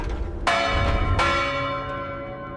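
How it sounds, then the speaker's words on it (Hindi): A heavy, resonant bell is struck twice, each loud ring swelling and then fading into a long, shimmering decay. No voices are heard. "घंटी बजी"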